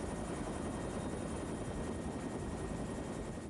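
A helicopter flies close by with a loud, steady rotor and engine roar that fills the whole stretch without a break, and there is no talk.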